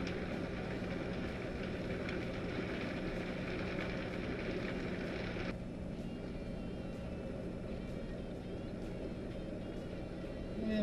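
High-speed blender running as it blends kale soup, a loud continuous whirring roar that shifts pitch and tone partway through as the speed changes.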